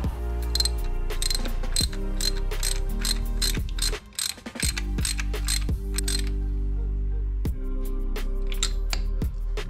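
Ratchet wrench driving a 3/4-inch 19 mm deep socket on a car radiator fan switch sensor with an aluminium head, loud close rapid clicking in repeated bursts with brief pauses.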